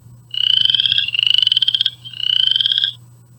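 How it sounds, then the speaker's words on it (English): Chorus frog giving three long creaky trills, each a rapid train of pulses rising slightly in pitch, like fingers run along a comb's teeth, loud and close over a faint low hum with no voices. "Another one that we have in our area, chorus frogs."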